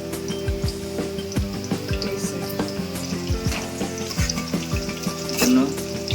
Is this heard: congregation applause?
no